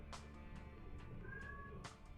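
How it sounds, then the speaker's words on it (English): A house cat meows several times in short, repeated calls to be let in, fairly faint and apart from a quiet room background. "Oh yes, kitty cat. I will let you in just a second."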